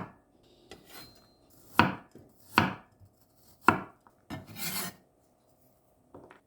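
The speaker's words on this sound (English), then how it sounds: "We need 3 cloves of garlic sliced or minced." Garlic cloves sliced with a knife on a cutting board, four or five sharp separate chops and scrapes spaced irregularly, close and crisp against a quiet background.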